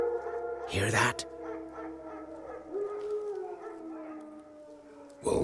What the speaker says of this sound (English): Wolves? No. Wild dogs. Yes. More dangerous than wolves.